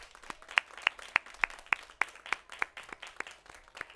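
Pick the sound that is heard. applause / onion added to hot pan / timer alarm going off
applause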